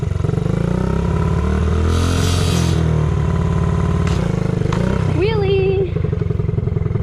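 A friend's small mini bike engine buzzes and revs loud and close, pitch rising and falling as the throttle is worked, with a rider's voice talking briefly over the motor.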